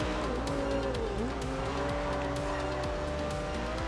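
A race car's engine drones steadily in Forza Horizon 2, its pitch sliding up and down with gear changes and tires squealing briefly through corners, loud and continuous throughout.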